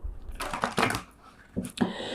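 Quick bursts of tarot card shuffling, a riffle near the start and a couple of shorter flicks later, close and crisp with no voices.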